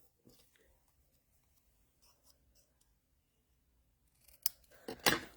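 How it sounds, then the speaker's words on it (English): Paper cut at an angle with scissors for a birthday fun-fold card, two or three crisp close snips near the end after a quiet stretch of faint room noise. "what I am going to do is just my simple angle cut"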